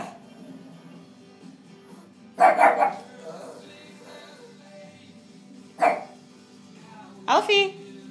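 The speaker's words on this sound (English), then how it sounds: "Who are you barking at?" A pug barks at its own reflection in a mirror, letting out three short, close bursts spaced a few seconds apart, with quiet room tone and a soft voice between them.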